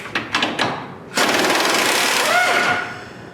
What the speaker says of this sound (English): use a 15mm socket to remove that upper bolt and that nut in the front